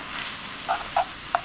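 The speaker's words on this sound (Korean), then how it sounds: "당면이 골고루 양념이 배게 저어주세요." Glass noodles are stir-fried with seasoning over high heat for japchae, a steady soft sizzle with three brief scraping taps from the utensil, close up with no talking.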